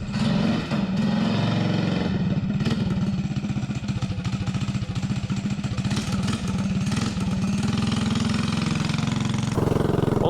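A mini bike engine fueled with VP Racing nitro fuel runs loudly and close, a rough, rapid chugging idle that holds steady for several seconds with occasional surges, with no talk.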